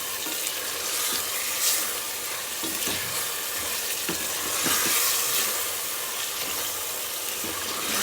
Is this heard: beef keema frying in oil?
yes